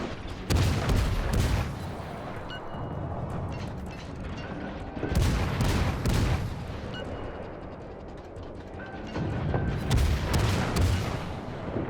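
Naval guns booming repeatedly from a warship in World of Warships, heavy broadband blasts in three loud bursts with mechanical clanking and rumble between salvos.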